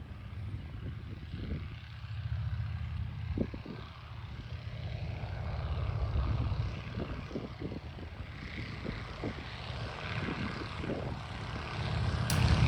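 Stearman biplanes with stock Continental engines drone steadily and swell in volume as they roll and take off in a section takeoff, a continuous loud rumble with no talking.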